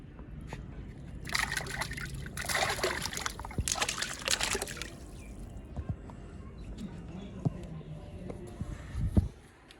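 Water sloshing and trickling as raw chicken is washed in a tub of fresh water at a village kitchen in Pakistan, with bursts of splashing and dribbling in the first half, then quieter drips and handling noises.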